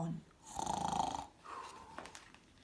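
A voice imitates a bear snoring during a read-aloud bedtime story, giving a drawn-out rasping snore followed by a shorter second one, close and moderately loud.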